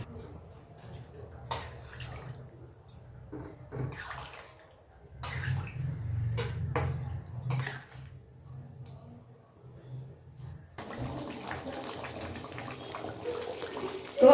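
Water poured into a pot of simmering aloo dum potato curry, heard as faint, intermittent splashes and trickles that become a steadier pour toward the end.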